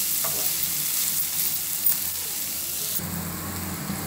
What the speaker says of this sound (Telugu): చూడండి, కొద్దిగా ఇట్లా వేగాలి, ఎక్కువ వేగొద్దు ఉల్లిగడ్డలు.